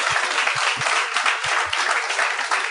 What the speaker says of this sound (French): j'aimerais ça qu'on leur donne une bonne main d'applaudissement